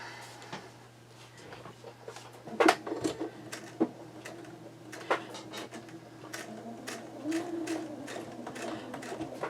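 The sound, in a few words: quilting sewing machine straight stitching slowly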